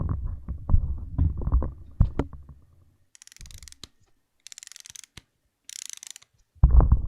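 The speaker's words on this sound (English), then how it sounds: "It winds up. Where's the crank, though, you ask? Check this out. You turn the handle." Crank handle on a 1962 wind-up film camera being turned, close-up mechanical ratcheting clicks in short bursts with pauses between, faint and quiet with no talking.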